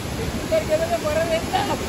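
Steady rushing water at a rainy-season waterfall, where water pours down through a narrow gap, making a broad continuous wash close by with a faint tonal whistle partway through.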